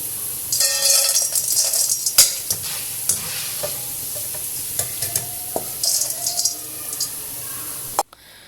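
Potato pieces frying chips-style in oil over a low to medium flame, a steady hiss and crackle with scattered sharp pops and clinks of stirring, close and loud, cutting off abruptly near the end.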